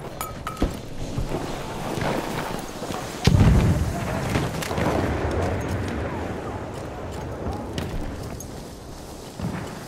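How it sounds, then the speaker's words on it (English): Grenade blasts in the World War I shooter Battlefield 1, a heavy low thump standing out near the middle amid constant gunfire, battlefield noise and shouting voices. "It's grenades for them!"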